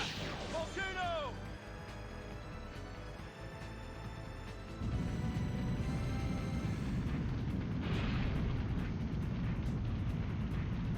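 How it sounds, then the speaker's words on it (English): Volcano fire magic attack erupting in The Legend of Dragoon, a dense rumbling roar that swells midway into a loud, sustained blast with crackling debris, joined by a brief whooshing sweep early on and a voice talking. "Volcano!"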